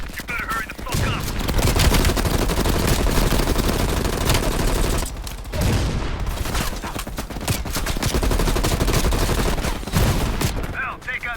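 Sustained machine gun fire in the Call of Duty Black Ops Cold War campaign, dense rattling bursts from an MG with brief pauses between volleys, loud and close, layered with battlefield noise.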